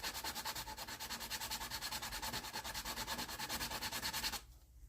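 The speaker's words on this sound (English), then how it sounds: "at 60 grit, it takes X number of strokes by hand to pare off 5/100ths of an inch." Pine board sanded by hand with coarse 60 grit sandpaper: steady rhythmic rasping strokes, about six per second, loud and close, stopping abruptly near the end.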